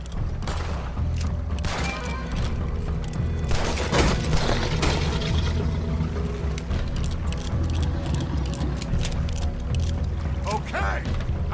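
Repeated gunfire in Red Dead Redemption 2, loud bursts of shots and booming reports over a rumbling mix, with raised voices beneath.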